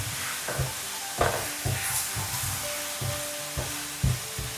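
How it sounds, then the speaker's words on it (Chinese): Fried chicken wings are tossed in a thick garlic sauce in a wok, a spatula scraping and knocking in a repeated rhythm over a soft, low sizzle, with no talking. "最後把煎好的雞翅倒回鍋中，不停地翻拌"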